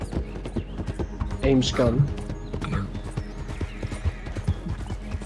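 In Red Dead Online, a horse's hooves clip-clop steadily nearby while it gives a short whinny midway, with people talking over the game sounds.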